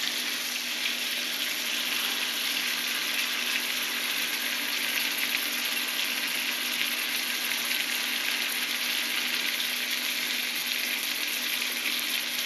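Steak frying in butter in a pan gives a steady, close hiss of sizzling that holds at an even level throughout, with no talk over it.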